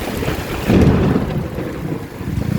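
Heavy rain pours down in a dense, rushing wash, with a deep rumble swelling briefly midway, loud and close.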